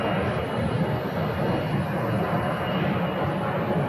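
A Challenger 600 business jet arriving from Mexico at Phoenix: a steady, loud, broadband engine roar that holds evenly for about four seconds with no clear rise or fall.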